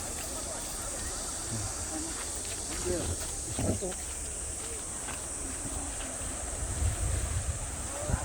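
Sea waves wash continuously along Heungnam Beach on Geoje Island, South Korea, under gusty wind noise, with a voice talking faintly in the background.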